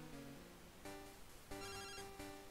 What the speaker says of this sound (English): we are getting a phone call from Professor Elm